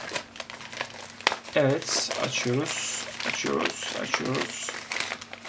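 A plastic-wrapped parcel shipped from China, holding a selfie stick, is opened with close, busy crinkling and tearing of plastic. Someone speaks Turkish in between.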